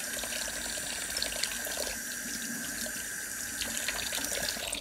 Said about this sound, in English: So I'm going to get my hands washed real quick.